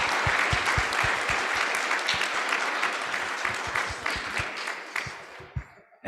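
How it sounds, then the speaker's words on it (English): Audience applause at a community leader symposium, a dense sustained clapping from a large crowd that carries on for several seconds before tapering off near the end. "one more round of applause for this incredible work happening"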